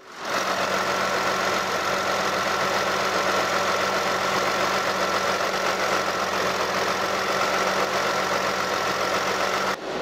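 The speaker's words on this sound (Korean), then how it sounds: "엔진 소리 한번 들어보도록 하겠습니다" A steady Kia Mohave 4WD SUV engine idle heard up close with the engine bay open, an even mechanical hum and whir that holds constant for the whole stretch without revving.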